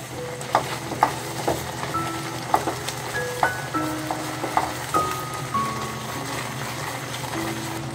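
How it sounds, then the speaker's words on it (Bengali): Thickened whole milk boils and spits in a pan on high heat under a lid held as a shield, making an even bubbling sizzle broken by sharp pops and scraping clicks, with light melodic tones behind. "এই পর্যায়ে ঘন হওয়ার কারণে এবং হাই হিটে থাকার জন্য দুধটি অনেক ছিটাবে।"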